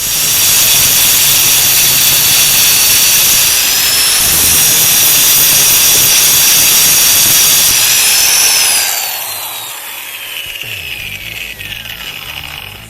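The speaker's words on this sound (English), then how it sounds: "I think I'm going to try to grind the end of that shaft off with a grinder" An angle grinder grinds down the end of a truck power steering pump shaft, a loud, close, high-pitched whine held steady for several seconds before it winds down and fades.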